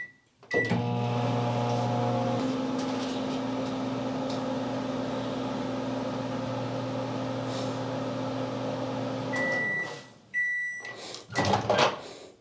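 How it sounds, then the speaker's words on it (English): A microwave hums steadily for about ten seconds, then stops with a beep, followed by the door clicking open and some handling noises. "Now that I got it in the microwave"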